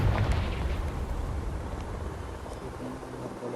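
The Confringo fire spell in Hogwarts Legacy igniting dry vines, a loud, sustained roaring whoosh of flame with heavy low rumble that fades slightly over a few seconds.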